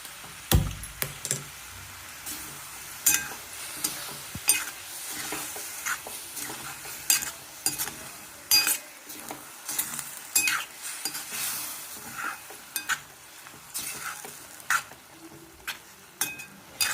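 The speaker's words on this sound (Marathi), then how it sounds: "आता ही डाळ टाकायची आणि परत गॅस चालू करायचा." Chana dal and spinach cooking in a pan on the gas stove while a spatula stirs them, giving repeated close scraping and clacking strokes over a low sizzle, with no talking.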